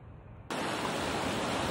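Water at a hot spring in Rukum Kot rushes in a steady broadband roar that cuts in abruptly and stays loud and close.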